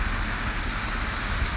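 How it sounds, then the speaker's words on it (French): Steady rain falling outdoors in Québec, a dense, even hiss of drops filling the whole stretch without breaks, with no voices. "Il pleut!"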